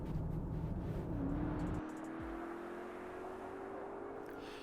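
A 626bhp 2024 Range Rover Sport SV engine hums at low volume, then climbs in pitch as it accelerates, a smooth rising drone heard from a distance with no talking.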